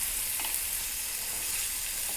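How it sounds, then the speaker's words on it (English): Onions sizzle in butter in a cast iron pan over medium heat, giving a steady, close crackling hiss that holds evenly throughout with no voices. "It's kind of sizzling really good, and we're going to just coat those with all the butter."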